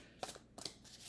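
Tarot or oracle cards are shuffled by hand, two or three quick soft riffling bursts close by and quiet, with no talking.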